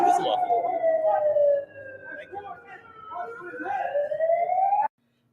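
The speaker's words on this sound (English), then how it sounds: "that siren you are hearing is not from an emergency vehicle, but belongs to the frauditor" A siren not from an emergency vehicle wails in sweeping rising and falling tones, moderately loud over traffic-like background noise, with voices faintly mixed in, then cuts off abruptly near the end.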